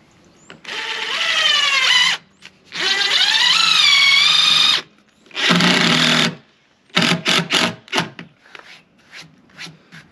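A power drill drives screws into grooved Trex deck boards in three long motor whines that rise in pitch, then several short stop-start bursts, loud and close with no talking.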